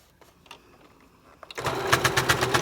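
A sewing machine stitches down a fabric face mask seam. It starts in with a short whir, then runs in a fast, rhythmic mechanical chatter close by, after faint handling noises.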